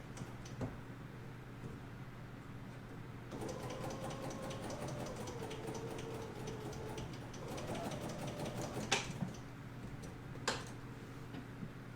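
A Bernina sewing machine stitches binding onto fabric, giving a quiet, steady mechanical hum with a fast ticking stitch rhythm that runs continuously, with a couple of sharper clicks near the end.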